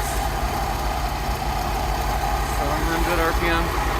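Rolls Royce Silver Shadow engine idling during carburettor tuning, a steady close low rumble with a slight tonal hum that wavers toward the end, no speech.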